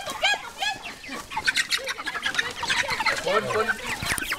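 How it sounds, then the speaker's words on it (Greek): Chickens being put into a coop cluck and squawk in busy, agitated bursts close by, with people talking over the flock. "Προσπαθούν να βάλουν τα πουλιά στο κλουβί."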